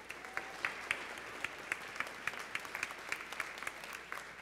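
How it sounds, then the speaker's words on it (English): A church congregation claps in applause, faint and thin, with a few distinct claps standing out in a loose, uneven rhythm as if from a small group some distance away. "You can give them a round of applause if you would."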